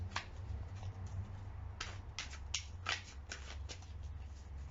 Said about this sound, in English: One or two more shuffles.